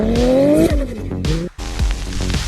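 A car drifts with engine revving, its pitch climbing as the tires squeal, then a short break before another burst of revving and skidding, loud and close.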